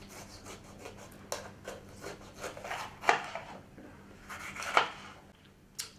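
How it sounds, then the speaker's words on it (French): A knife slicing through a bell pepper, producing a few rough scraping cuts with two sharper crunching strokes, close and fairly quiet, with no talking. "on coupe la moitié du poivron"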